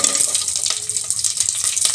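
Mustard seeds and curry leaves sizzle in hot oil in a pan, a dense steady crackle and hiss that runs without pause for the whole stretch, close and fairly loud with small pops scattered through it.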